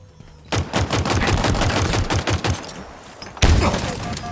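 Sustained automatic weapon fire in Halo Infinite multiplayer, loud close bursts of rapid shots, a brief pause, then another heavy burst.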